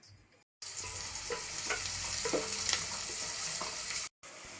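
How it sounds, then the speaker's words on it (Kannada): Onion frying in about three tablespoons of oil in a pan for a fish sambar, a steady close sizzle with occasional stirring clicks, broken by two brief silent gaps. "ಇದೊಂದು ಸ್ವಲ್ಪ ಫ್ರೈ ಆಗಬೇಕು"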